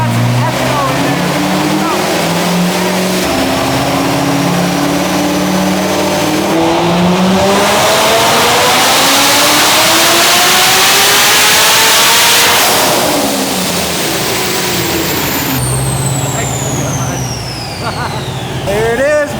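A roughly 1,000-horsepower car engine running on ethanol roars loud and sustained on a dyno, climbing in pitch through a hard pull before easing off near the end.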